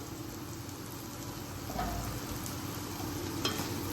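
Small paneer cubes added to a pan give a low, steady sizzle, with light scraping stir strokes rising partway through, close and quiet with no talk.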